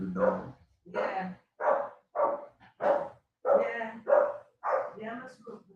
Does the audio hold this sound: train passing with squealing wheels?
no